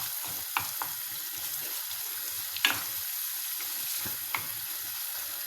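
Soft sizzling of macaroni with pepper stirred in a frying pan, a steady low hiss broken by a few light scraping clicks of the utensil, quiet and close with no talking.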